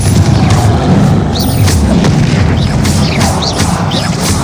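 Confringo fire spell blasts in Hogwarts Legacy combat: loud, booming explosive bursts layered over dense, continuous game sound, with several hits landing in quick succession.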